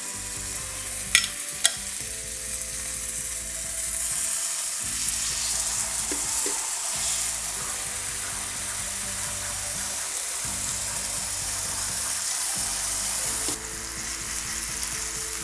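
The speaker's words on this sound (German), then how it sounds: "Jetzt kommen die schönen Stücke Fleisch in die Pfanne rein." Chicken fillet pieces sizzle and fry steadily in olive oil in a pan, a loud continuous crackle with a few sharper pops near the start and no talking.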